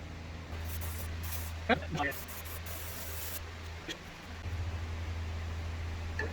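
A spray can of cleaner hisses onto small, fragile wires in a short burst. It is followed by quieter spray and rustling over a steady mechanical hum.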